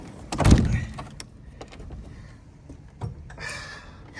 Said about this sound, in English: Oh, I can't even open the fucking door.